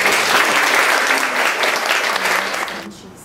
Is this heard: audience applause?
yes